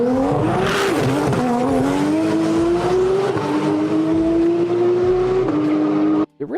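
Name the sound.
tuned car engine revving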